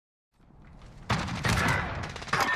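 Shotgun fire in a video game: a rapid run of loud, close gunshots that starts after a brief quiet lead-in and rattles on to the end, with no talking.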